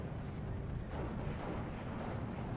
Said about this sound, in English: We're seeing just constant airstrikes from Focke-Wulfs now that just seem to have no fear